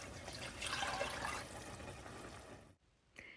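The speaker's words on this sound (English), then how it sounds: "I go ahead and pour in some water while my pan's heating up" Water poured into a pan heating on the stove for green beans, a close, rushing splash that swells and then cuts off, followed by a brief faint clink.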